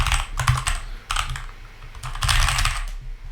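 Fast typing on a computer keyboard in bursts of rapid clicks, with brief pauses between runs, close and clear with no talking.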